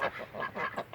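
Pekin and Rouen ducks in a backyard pen give a quick run of nasal quacks, about five calls in a rhythmic series, moderately loud and fairly close.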